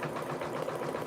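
A machine-embroidery machine stitches out a test design, producing a steady, fast mechanical whirring hum with rapid even needle pulses, close and continuous throughout, with no talking.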